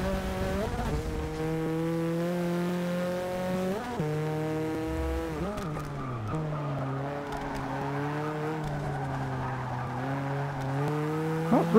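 Engine of a Subaru 22B race car in Forza 6 howls steadily through gear changes, dipping and rising with downshifts, while tires squeal through a turn; loud and continuous, with no voices.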